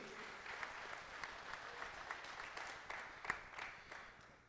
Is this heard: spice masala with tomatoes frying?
no